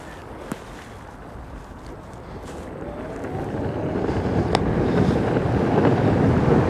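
Wind blasting across the microphone while riding an electric skateboard, building from a moderate rush to a heavy, rumbling roar as speed picks up, with a few faint clicks.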